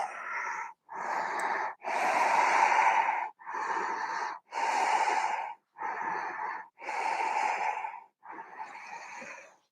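Slow, deep breaths drawn in and let out during a yoga pose, eight long airy breath sounds close up, separated by short silences, with no talk.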